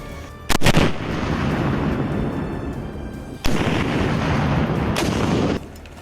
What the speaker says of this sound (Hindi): कार्ल गुस्ताव एक एंटी टैंक रिकॉइललेस राइफल है जो बड़े या बाधा के पीछे छिपे टारगेट को तबाह कर सकती है।